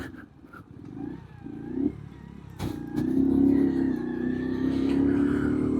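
A motorbike engine runs at low idle, briefly revs up, then settles into a steady, louder hum close by as the rider prepares to park, with no talking over it.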